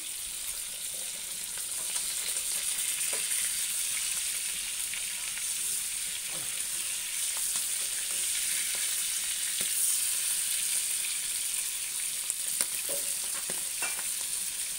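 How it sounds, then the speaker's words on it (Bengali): Fish frying in oil while being slowly turned produces a constant close sizzle and hiss with occasional soft scrapes and taps from a utensil, no voices. "বন্ধুরা মাছটা আমি উল্টে পাল্টে আস্তে আস্তে ভেজে নেব"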